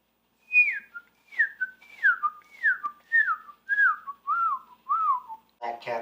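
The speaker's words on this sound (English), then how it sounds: "The cardinal." Eight clear, evenly spaced downslurred whistles of a cardinal's song repeat in a steady run, close and loud over near silence, ending in a brief rough burst.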